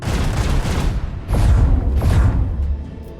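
Macro cannons fire a salvo in the video game Warhammer 40k: Rogue Trader, a series of heavy booming shots with whooshing trails, loud and close, two sharp blasts standing out before the rumble fades.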